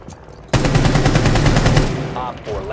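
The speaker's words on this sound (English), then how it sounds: "this is the shotgun that the engineer uses in Team Fortress" Shotgun fire in the video game Rainbow Six Siege, a loud sustained volley of rapid blasts lasting over a second, followed by fading echoes and clatter.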